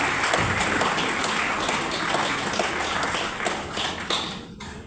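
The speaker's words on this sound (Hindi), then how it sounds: "जितनी ताली अपने लिए बजा सकें उतनी ताली बजाइएगा।" An audience at a Republic Day celebration at an institute in Moradabad claps. The applause is dense and sustained, close and fairly loud, with individual claps standing out, and it thins toward the end.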